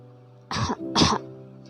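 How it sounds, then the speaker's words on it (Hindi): Two short, light coughs close by, like a soft clearing of the throat, over a faint steady hum. "वह हल्का सा खांसा।"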